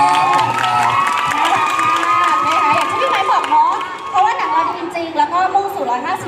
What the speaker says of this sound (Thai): ขอเสียงปรบมือพี่ไม้ด้วยค่ะ